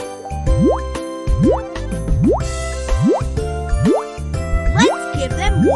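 Cartoon water-pouring effects play as vegetables are watered in a children's animated adventure: a run of bouncy rising swoops and liquid plops mixed with light tinkling jingles, repeating roughly every second, loud and close.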